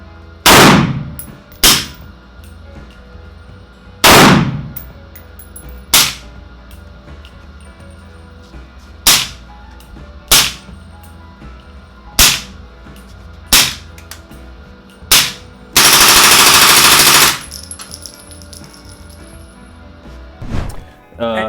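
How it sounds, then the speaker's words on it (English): SIG MCX Rattler rifle fired on an outdoor range, with sharp loud single shots spaced irregularly, about a dozen reports including one longer burst, and nothing else in between. "putting rounds down range"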